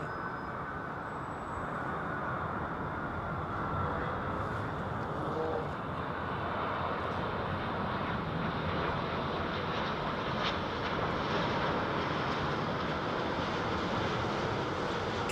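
Qatar Airways Airbus A350 airliner at Heathrow Airport, heard as a steady, broad jet engine roar that holds for the whole stretch, moderately loud and fairly distant, with wind-like rushing and no voices.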